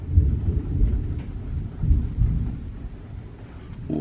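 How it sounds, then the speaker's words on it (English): Heavy rainstorm with low rolling thunder rumbling steadily throughout, swelling twice, under a constant wash of rain, with no talking. "Ooh, that's some good thunder."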